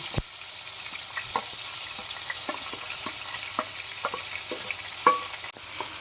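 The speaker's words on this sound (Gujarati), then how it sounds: "આપણે તેલમાં થોડીક વાર એમને જ સાતળવાનું છે, મસાલા કરવાના નથી" Chopped tomato and green onion sauté in hot oil with a steady, close sizzle and crackle, broken by scattered pops and spatters and one sharper clatter near the end.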